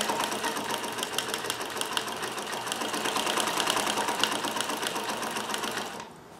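A Necchi Supernova Ultra freearm sewing machine stitches in a fast, even mechanical chatter, close and steady, before winding down at the end.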